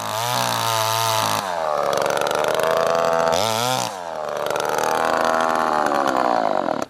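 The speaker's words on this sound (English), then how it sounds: "it was kind of odd using a chainsaw on the ice." A chainsaw cuts through lake ice on iced-over Cisco Beach, its engine droning loud and close, dropping to a lower idle twice before revving back up into sustained cutting.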